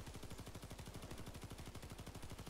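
Rapid automatic gunfire from a held weapon in the video game Payday 2, a dense, unbroken stream of loud shots rattling steadily throughout with no pause.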